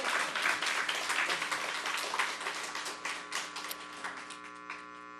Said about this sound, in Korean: 자, 의장님 박수 한번 합시다.